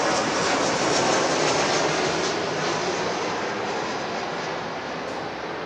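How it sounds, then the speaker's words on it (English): A Delta airliner arriving at LAX makes a steady, loud, broadband jet roar that fades slightly toward the end, with no talking. "Delta arrival."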